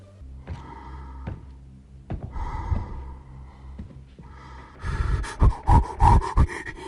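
Michael Myers' masked breathing from Halloween, performed by an actor, heard as heavy, close, ragged breaths and snorting exhales that grow louder and more rapid toward the end, with a couple of dull thumps.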